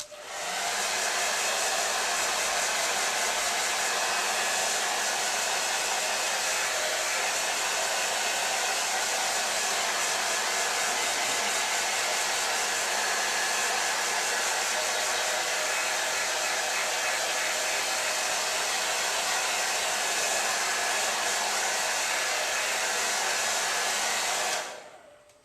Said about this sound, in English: Hairdryer.